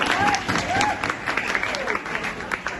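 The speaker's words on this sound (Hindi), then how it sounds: "जोरदार ताली हो जाए" Audience applause at a science coaching institute fills the room with steady, dense clapping, close and lively, while a few voices carry faintly over the crowd.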